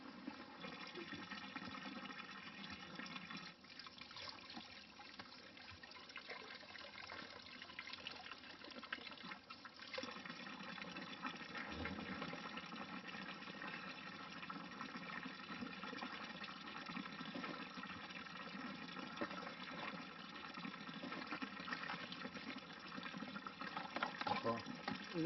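Water pours steadily into a container on Mount Athos, a continuous rushing, trickling flow lasting throughout with faint voices in the background.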